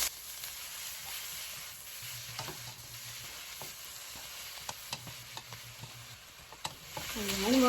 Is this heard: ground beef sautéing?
yes